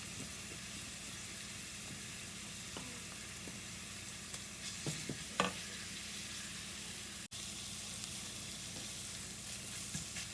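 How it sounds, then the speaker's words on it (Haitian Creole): Garlic and onions sauté in a pot, giving a quiet, steady sizzle with occasional stirring clinks and small pops, soft and close with no voices. "On prend l'ail là dans le pilon, on met le faire revenir de l'ail."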